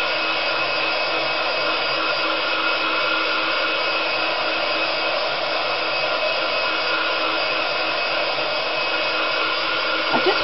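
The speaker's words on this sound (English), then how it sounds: "I apologise for the sound of the heat gun" Heat gun blowing hot air continuously over a drying craft piece, a steady, close, loud rushing hum with no pauses throughout.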